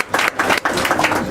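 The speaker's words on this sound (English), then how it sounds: "Give us a round of applause." A brief burst of applause aboard the Kookaburra Queen riverboat in Brisbane at a 25th anniversary gathering, with several dense surges of clapping close by.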